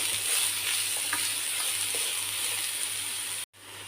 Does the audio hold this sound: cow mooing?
no